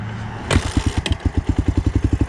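A single-cylinder dirt bike engine, a Honda XR400R or Suzuki DR350, starts after a click and settles into a steady, close, loud thumping idle with evenly spaced pulses.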